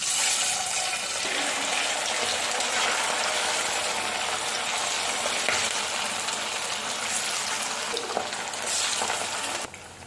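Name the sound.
marinated chicken 65 deep-frying in hot oil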